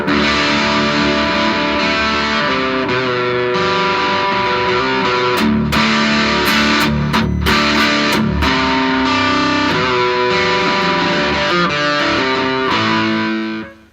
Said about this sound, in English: here is the same distortion pedal back to about 4 with all the same settings